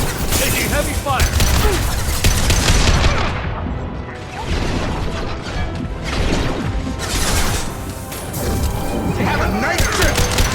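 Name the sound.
heavy gunfire in the video game Mass Effect 2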